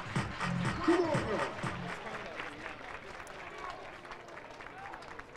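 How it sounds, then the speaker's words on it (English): Crowd at a college baseball game clapping hands, a fairly faint, rhythmic clap that runs along under a commentator's voice and fades slightly toward the end. "Everybody clap your hands."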